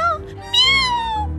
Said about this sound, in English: Don't be meowing so much!